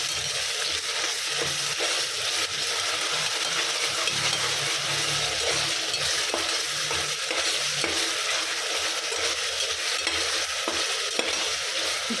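Garlic ginger paste frying in a pan for ghee rice, a steady close sizzle with occasional stirring clinks running throughout, no voices.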